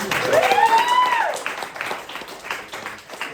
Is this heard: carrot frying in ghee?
no